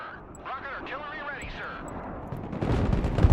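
Mortar artillery fires in the war game Broken Arrow, heavy booms building toward the end under a talking voice.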